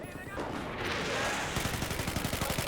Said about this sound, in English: we got a big old tank battle right now